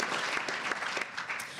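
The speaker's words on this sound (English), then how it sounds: "I'll take applause, too." Applause from the audience at an education legislative conference panel, a dense steady clapping from a crowd, loud and sustained.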